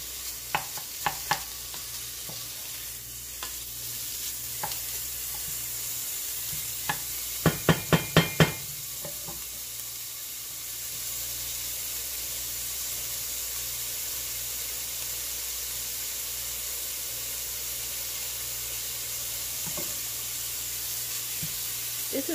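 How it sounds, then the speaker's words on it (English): Two freshly sliced bacon slices sizzle in a pan as a steady close hiss, with a short cluster of stirring clatters near the middle and a few scattered utensil clicks. "two slices of bacon that I've just sliced up. And we'll cook that down."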